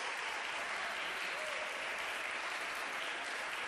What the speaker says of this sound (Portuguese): Aplaude, aplaude, aplaude o Espírito Santo de Deus.